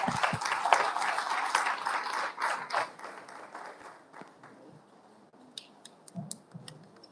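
Applause from an audience at a university event: scattered hands clapping fairly quietly, strongest at the start and thinning to a few sporadic claps that trail away.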